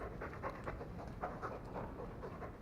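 A dog companion pants rhythmically in the video game Dragon Age 2, with quick, steady breaths repeating close up for a few seconds and no talk over them.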